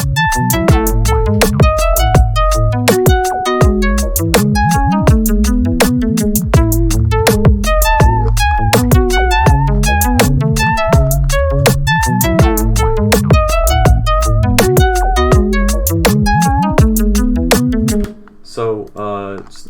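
Loud 8-bar electronic music loop with basic drums and small bleep loops in the background, steady repeating beat and pitched blips, cutting off near the end into a brief faint tail.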